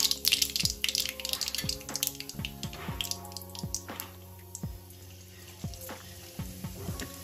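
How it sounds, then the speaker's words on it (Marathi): Cumin and mustard seeds splutter in hot oil while a tuar pod vegetable dish is cooked. Close, irregular pops and crackles crowd together at first, then thin out, with a faint hum of background sound beneath them. "जिऱ्याला आणि मोहरीला फुटू द्यायचं."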